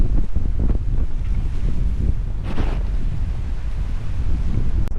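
Rough sea waves off the coast of Bulgaria, a continuous, loud, churning roar heavily mixed with gusty wind buffeting the microphone, with no talking.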